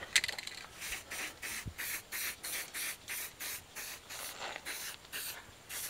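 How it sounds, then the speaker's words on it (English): An aerosol can sprays paint onto burnt galvanized weld spots on metal fence poles in the Philippines, giving about a dozen short, evenly spaced hissing bursts up close with brief pauses between them. "And I know that you want to do that before put the panels on, so we don't spray paint the panels."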